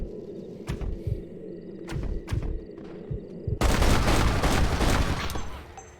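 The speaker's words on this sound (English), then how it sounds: "Open fire!" Enemy gunfire erupts in the video game Red Dead Redemption 2: a few sharp, separate shots crack at first, then a loud, dense fusillade of overlapping rapid fire takes over and continues to the end.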